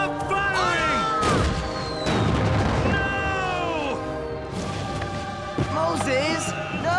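Cartoon cannon and gunfire crash and boom during a Yorktown battle, with several heavy impacts and bursts mixed under shouted voices, whistling tones and a musical score.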